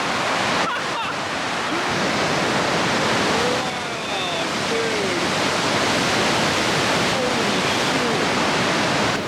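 A massive waterfall in Quebec thunders in a loud, constant roar of crashing water, filling the scene from start to finish while a man briefly exclaims over it.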